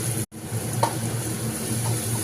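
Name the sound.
spice paste frying in a pan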